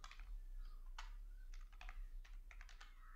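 Keys on a computer keyboard clack in quick irregular bursts with short pauses while an email address is typed, close and quiet against a low hum.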